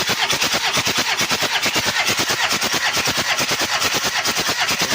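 A Toyota Kijang diesel engine turning over on its starter during a compression test, a fast, even, loud chugging beat of cranking strokes that runs without stopping, close to the engine.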